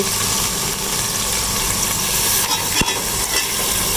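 Beef keema going into browned onion paste in a pan, giving a steady broadband sizzle with a brief clack of a spoon near the middle, no voices.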